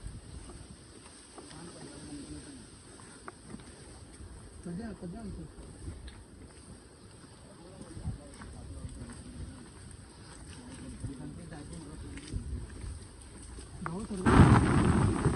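Strong wind gusting over an open plateau top, a steady rushing roar buffeting the microphone throughout and swelling into a loud blast near the end, with people talking over it.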